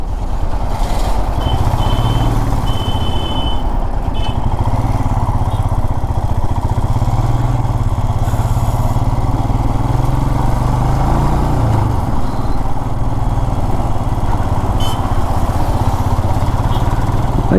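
A motorcycle rides up to the Tumkur toll gate in traffic, with its steady engine drone running loud and continuous alongside other vehicle noise and brief beeps.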